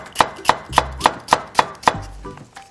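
A knife chopping celery and other vegetables on a cutting board for a Chinese-style stir-fried pork dish, about seven crisp, evenly spaced thuds in quick rhythm, close and clear with no talking.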